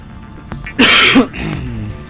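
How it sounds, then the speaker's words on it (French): A single harsh cough close to the microphone, a rough burst lasting about half a second, followed by quieter throat noise. "je sais pas pourquoi je tousse en ce moment"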